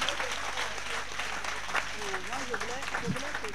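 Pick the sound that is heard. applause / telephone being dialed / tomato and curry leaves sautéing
applause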